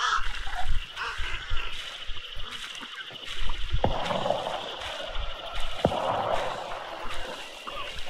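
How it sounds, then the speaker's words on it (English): Scattered duck quacks and honking calls from a group of ducks in the Hunt: Showdown bayou, mid-distance over a murky ambient bed with a couple of sharp clicks, no talking. "There's ducks there"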